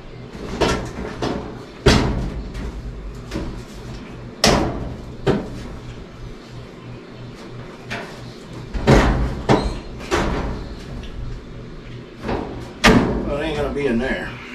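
A door is handled and taken off its hinges, giving a string of sharp knocks, thuds and clattering bangs at irregular intervals, close and loud, with a voice talking in between.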